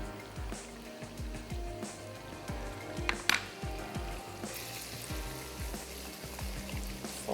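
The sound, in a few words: yogurt and black pepper sizzling while stirred into beef pulao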